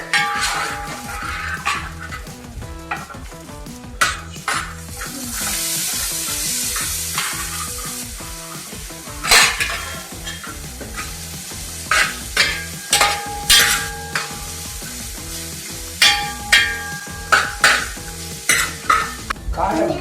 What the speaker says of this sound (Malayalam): നല്ലപോലെ ഇളക്കിക്കൊണ്ടിരിക്കുകയാണ്.